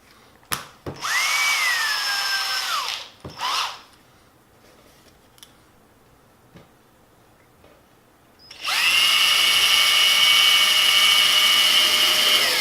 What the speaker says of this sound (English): Find a drill bit.